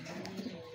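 A pigeon gives one soft, low coo, faint and brief against a quiet outdoor background.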